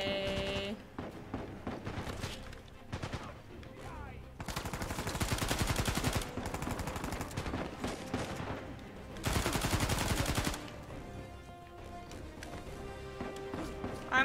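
Sustained gunfire in Uncharted 4, with dense bursts of rapid automatic shots in two long loud stretches and scattered single shots between them, all set against a cluttered combat soundscape.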